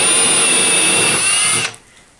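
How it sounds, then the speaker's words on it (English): A power drill bores a hole into drywall with a loud, steady whine that cuts off abruptly near the end, leaving quiet room tone. "So just drill carefully so you don't drill into something in the back"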